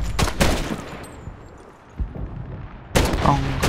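Bursts of gunfire and artillery blasts in the World War II shooter game Medal of Honor, a loud volley at the start, a quieter lull with a single shot, then another heavy burst of rapid fire.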